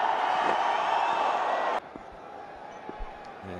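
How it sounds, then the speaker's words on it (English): A big stadium crowd at a 2016 cricket match against New Zealand roars for Virat Kohli as he walks out to bat. The loud, steady cheer cuts off abruptly halfway through, leaving quiet background murmur. "So massive cheer for Virat Kohli,"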